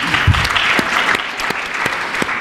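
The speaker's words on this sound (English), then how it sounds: "Round of applause, ladies and gentlemen." Clapping from an audience at a development dialogues event in Istanbul, a short burst of steady applause with a few louder distinct claps, heard close and fairly loud.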